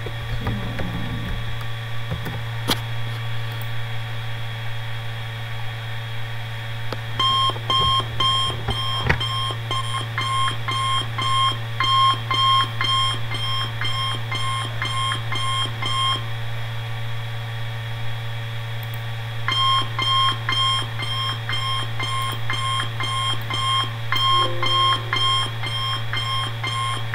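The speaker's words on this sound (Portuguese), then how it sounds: "Sons de alarme." Electronic safety alarm tones play in repeated beeping bursts over a steady low mains hum, with two long patterned runs of fast pulsing beeps separated by a quieter gap.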